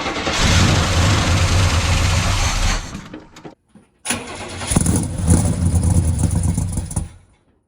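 A Buick GS project car engine cranks and catches, running loud and rough, cuts out for a moment, then fires again and settles into a steady idle, heard up close.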